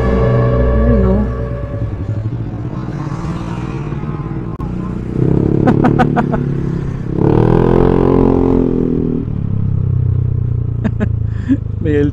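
Loud motorcycle with an aftermarket exhaust pipe rumbling on a busy road among other motorcycles, revving in strong bursts around the middle and again near the end, with a voice talking over the engine noise.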